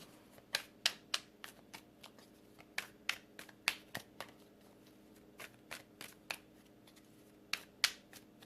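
A tarot deck shuffled close up in a quiet room, giving crisp, sharp card snaps and flicks at irregular intervals, fairly soft overall with no talking.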